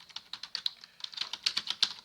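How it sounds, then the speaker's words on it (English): Someone types quickly on a computer keyboard, a close, crisp run of rapid clicking keystrokes in an uneven rhythm with no voices. "let's go ahead and get our text tool, and let's start typing"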